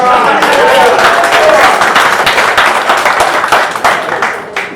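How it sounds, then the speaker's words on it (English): A rally crowd at a campaign event in Keene, New Hampshire, bursting into loud, sustained applause with cheering voices mixed in, tapering slightly toward the end. "Let's give that a round of applause"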